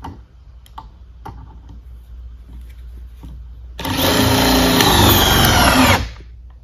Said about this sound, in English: Speed 2 drill mode.